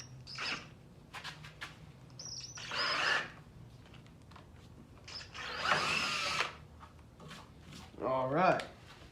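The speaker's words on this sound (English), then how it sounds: "Make sure you drill it in an angle also, so it's easier for the wire to come out and it doesn't bind." A power drill bores holes in a boat trailer for new light wiring, giving several short whirring bursts with a creaky grinding edge. The bursts come between pauses, and quiet talk is heard in the background.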